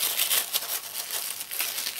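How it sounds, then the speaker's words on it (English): Tissue paper crinkles and rustles as a wrapped gift is opened by hand, a dense, continuous crackling that is close and clear, with no voices. "The tissue paper is not very friendly to be being treated gently, I think."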